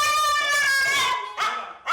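A French bulldog howls in a drawn-out, wavering tone that breaks off, then gives two shorter yelping howls, close and fairly loud, with no talking.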